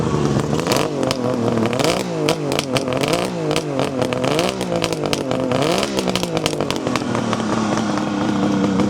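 A 1974 Kawasaki motorcycle engine revs hard over and over, close and loud, its raspy note climbing and falling in quick repeated bursts with no talking.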